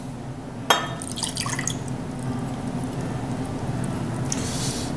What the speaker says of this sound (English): let's go ahead with quarter cup of soy sauce